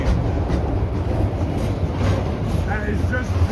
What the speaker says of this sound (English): I have never seen a train like this before.